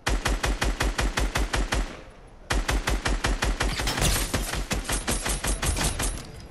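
Rapid bursts of automatic gunfire in the video game Fortnite, loud and rhythmic, a brief pause, then more sustained firing with sharp cracks layered over it.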